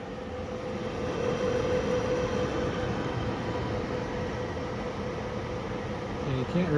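A 2005 Lasko Pro-HV blower fan running on low speed gives a steady, rumbling internal whir with rattly mechanical texture, continuous and fairly quiet throughout.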